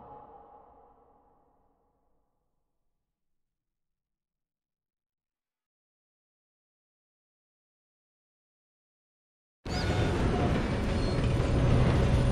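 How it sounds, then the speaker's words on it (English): Train in the video game Red Dead Redemption II, a loud dense rumble bursting in abruptly near the end after a long silence, following a fading low sound at the start. "This train."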